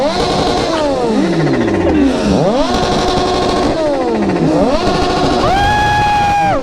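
Loud engines of three superbikes rev repeatedly, pitch climbing and falling in sharp sweeps as the bikes roar past close by on a road ride, with a constant throaty rumble.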